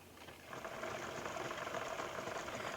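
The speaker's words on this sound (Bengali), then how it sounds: "আমি একটা সেলাই দিয়ে নিচ্ছি গলাটার উপরে।" Sewing machine stitching along a kameez neckline, a quiet steady whirring hum that starts softly and settles into an even mechanical drone, heard close with no talk.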